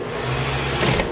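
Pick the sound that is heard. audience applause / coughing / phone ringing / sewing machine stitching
sewing machine stitching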